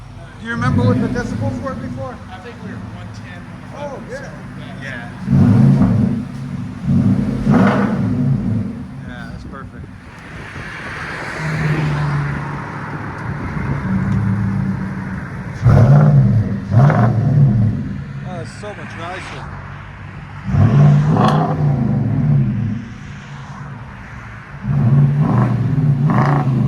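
A truck engine revs through a newly fitted X-pipe exhaust with a deep, loud roar, rising in several strong bursts over a steady idle rumble, with people talking between the revs.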